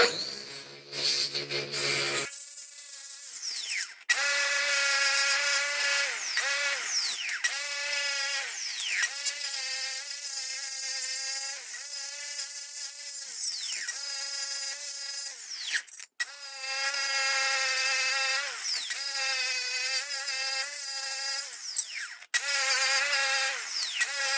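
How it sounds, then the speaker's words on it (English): An electric sander whines at high pitch while cleaning grass off lawn equipment, its buzzing tone wavering and shifting in pitch with brief cutoffs, loud and close with no talk. "I just find it more convenient, much faster to do it with this sander."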